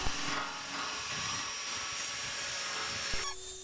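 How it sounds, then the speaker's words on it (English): A hole saw grinds into a metal fuel tank for a rally Beetle, cutting an opening for the sender unit; the steady rasping whine runs continuously, then the tool stops abruptly near the end. "The hole saw does the job for the sender unit,"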